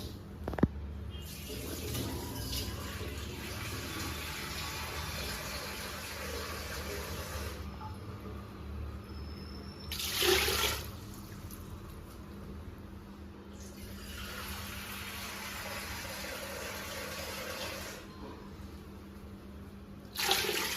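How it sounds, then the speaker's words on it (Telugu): Water pours steadily into a pressure cooker holding potatoes and chicken leg pieces, a continuous rushing flow that runs for about twenty seconds with brief dips in strength and no talk over it. "సరిపడి నీళ్ళు పోసుకుందాం."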